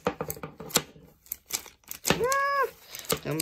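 Scissors cutting through plastic toy packaging, a run of sharp irregular snips and crinkles close to the microphone, with a brief voiced exclamation partway through.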